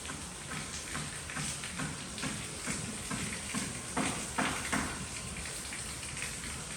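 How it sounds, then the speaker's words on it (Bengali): Heavy rain falls steadily, a dense, even hiss of drops on surfaces with scattered louder patters, continuous throughout and without any voices. "দেখেন বৃষ্টির পানি দেখি অবস্থা"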